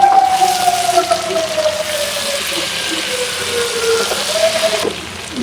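Water pours into a pan of fish curry with eggplant, a loud, close, steady gushing that rises in pitch as the pan fills and then stops abruptly near the end, with no talking.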